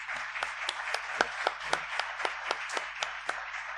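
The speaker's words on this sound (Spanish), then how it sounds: "Lo recibimos con un fuerte aplauso." A small studio audience on a radio program claps for an arriving guest, a sparse run of individual sharp hand claps at an uneven rhythm, close by, over a low steady hum.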